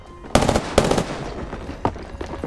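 Gunfire in the Apex Legends video game comes as two sharp, loud bursts close together near the start, followed by fainter scattered shots further off.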